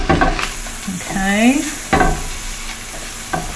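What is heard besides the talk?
bacon sizzling in a pan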